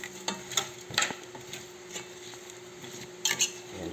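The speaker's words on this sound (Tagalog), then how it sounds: "So, haluin na natin ng konti." A spoon stirs spicy chicken feet in a pot with about two cups of water, making intermittent scraping clinks against the pot's sides at a moderate, close distance.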